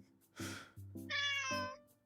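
A kitten meows in a video game, three short cries in a row: a breathy first call, then two higher, clearer mews with a brief pause between them. The sound is close and stands alone.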